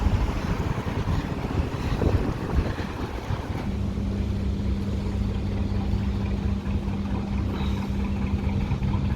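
Wind buffets the microphone, then a narrowboat engine on the Coventry Canal settles into a steady low chugging drone that continues to the end.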